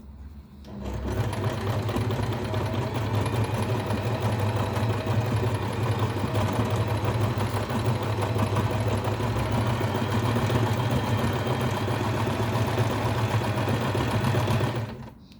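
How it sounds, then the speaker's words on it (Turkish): A sewing machine stitches clothing for Sphynx cats, running in one continuous, steady whirring burst for about fourteen seconds, close and fairly loud, with no voices. "Bir kez daha dikiyorum."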